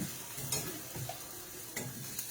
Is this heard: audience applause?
no